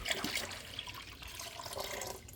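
Distilled water pours steadily into a bucket while a hydroponics system is set up, a continuous splashing, bubbling stream heard close and alone.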